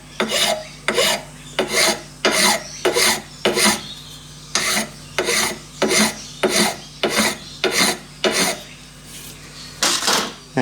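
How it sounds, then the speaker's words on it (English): A hand file strokes lightly across a cast clock base to flatten it, giving about fourteen even rasping passes in a steady back-and-forth rhythm, close and crisp with short gaps between strokes. "I just lightly file that flat"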